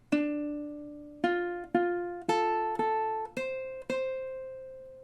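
Ukulele notes and chords ring out alone in a slow, steady rhythm, six plucked strums spaced about half a second to a second apart, each decaying cleanly, forming measure 6 of a song.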